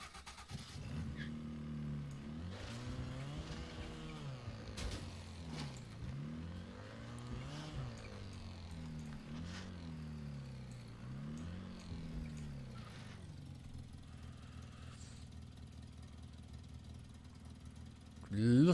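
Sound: small car engine in video game Mafia III

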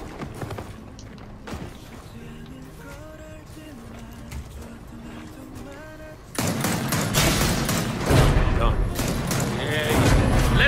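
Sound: gunfire in the video game Gears of War 4

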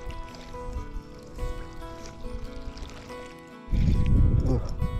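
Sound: boat passing on the water

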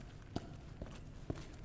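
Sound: footsteps in the video game Resident Evil 2 Remake

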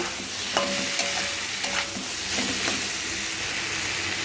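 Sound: stirring cumin and chilli powder into a frying pan

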